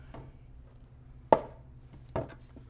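Knife chopping garlic and ginger on a cutting board for a marinade: two or three sharp, separate thuds spaced apart, close and fairly quiet with stillness in between.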